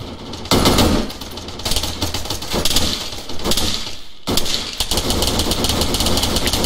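Sustained automatic rifle fire from a firefight in the military game ArmA, rapid bursts rattling loudly and almost continuously, with one brief gap before the shooting resumes.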